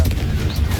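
A Confringo blasting spell fires in Hogwarts Legacy, a brief deep booming burst, loud and close, alone with no talking.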